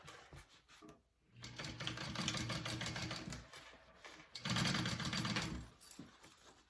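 A sewing machine top stitches a seam on a bowler bag pocket and zipper, running in two sustained bursts of steady rapid whirring and needle clatter with a short pause between, close and without talk.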